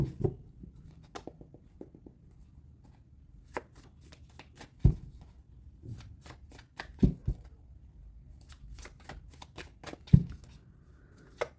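A tarot deck is shuffled by hand, giving repeated soft riffling clicks and sharper card snaps in uneven bursts, close and fairly quiet, with no talking.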